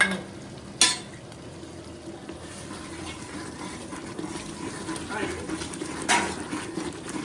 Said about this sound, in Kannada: ಮಸಾಲೆ ಎಲ್ಲ ಚೆನ್ನಾಗಿ ಫ್ರೈ ಆಯಿತು